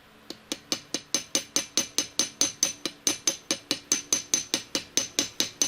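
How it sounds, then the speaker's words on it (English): About twenty rapid, evenly spaced metallic rings from hammers bounced on metal at a steady rhythm, each strike bright and quickly decaying, close and alone with no talk. "These hammers are designed to be able to be bounced."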